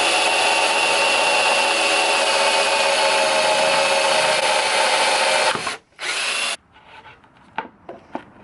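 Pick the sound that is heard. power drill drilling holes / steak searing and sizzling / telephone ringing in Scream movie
power drill drilling holes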